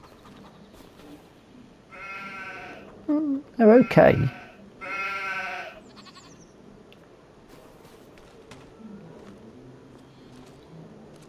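Sheep in the Farm Sim 25 farming game bleat several times in a loud, close cluster near the middle, with someone talking over the game audio before and after.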